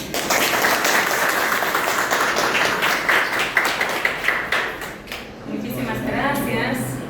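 Audience applause welcoming a speaker at a talk, sustained clapping that tapers into scattered claps and stops, followed by a voice beginning to speak.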